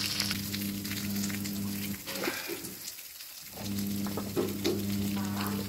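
Onion, garlic and ginger frying with curry leaves in a pan, a dense, close sizzle with a steady low hum beneath, dipping briefly in the middle before the crackle returns with scattered spatula taps.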